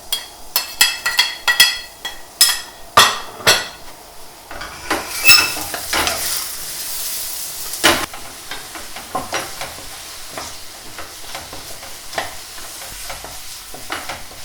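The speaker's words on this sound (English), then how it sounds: "If it sizzles, then it's ready to go in. That's just starting to sizzle." Garlic sizzles in hot oil in a pan, with a soft frying hiss under a series of sharp clinks and scrapes from stirring and utensils against the pan, with no talking.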